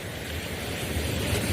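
Waves washing onto a beach, a soft steady rushing surf with some wind noise on the microphone, no voices.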